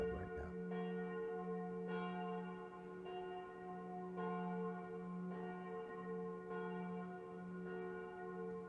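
A church bell outside rings in steady, evenly spaced strokes, each one ringing into the next so the tone keeps humming, fairly faint and distant, with a brief spoken word at the start.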